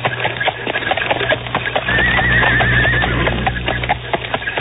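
Horse whinnies and clopping hooves in a Spanish-language radio drama, with a rising, wavering neigh near the middle over steady hoofbeats and background sound.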